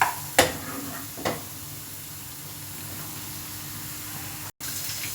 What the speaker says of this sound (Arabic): في الوقت ده حطيت الزيت عشان احمر الفراخ والتومه